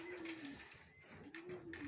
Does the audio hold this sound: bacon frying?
no